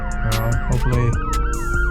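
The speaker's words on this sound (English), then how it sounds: "Uh-oh, got an ambulance." Ambulance siren passing at night, heard from inside a 2023 Honda Civic Type R on a night drive: a loud wailing siren sweeping up and down in pitch. A voice briefly speaks over it.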